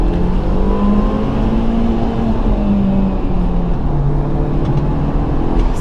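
A Skoda car pulls away gently in first gear from a soft launch, with a loud, steady engine note that climbs slowly in pitch over several seconds, close up and with no talking.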